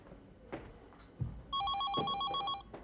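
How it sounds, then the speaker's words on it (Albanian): An indoor telephone rings with a rapid, trilling electronic bell that lasts about a second, preceded by faint thumps and movement. "Telefoni."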